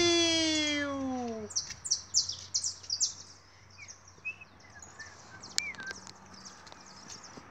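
After a low hum fades, small birds chirp in quick bursts of high tweets, fairly close, then trail off into sparse calls.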